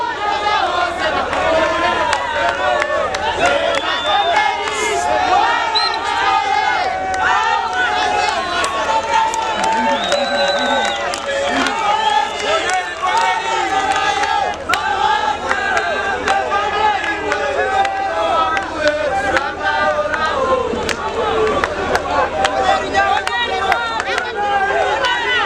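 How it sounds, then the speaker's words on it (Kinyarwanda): A lively crowd at a Rayon Sport awards event claps and chatters steadily for the May best player, Bonel, a dense continuous din with voices mixed in throughout. "Amashyi cyane kuri Bonel, the May best player."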